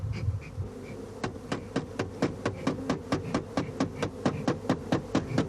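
Honeybee swarm at old wooden hives in heather-rich Asturian countryside, a steady dense buzzing under a run of regular rapid clacks, about four per second, close and moderately loud.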